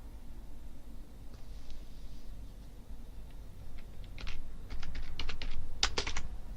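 A command typed on a computer keyboard, a quick burst of light clicking keystrokes, close and fairly quiet, building into a faster cluster toward the end.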